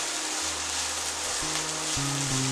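Cut green beans sauté in a pan on a medium flame, giving a steady, even sizzle throughout while low sustained tones hum underneath.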